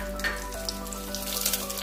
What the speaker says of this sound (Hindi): एक चम्मच घी और डालते हैं और इसी में ये जीरा डालते हैं, ये 2 तेज पत्ते हैं ये भी डाल देते हैं